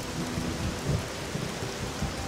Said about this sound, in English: last time you saw me, it wasn't raining. Because it started raining.